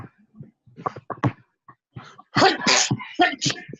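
A sharp, explosive sneeze bursts out after a few soft breaths and small sounds, followed by a quieter second burst close to the microphone.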